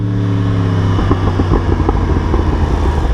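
A Yamaha R1 sport motorcycle engine, fully warmed up, idles close by, then blips and revs in short bursts, the exhaust burbling with a throaty, uneven pulse.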